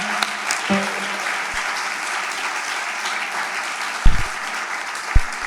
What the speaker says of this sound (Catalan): podríem aplaudir el Dani Campos perquè ha estat treballant tot el vespre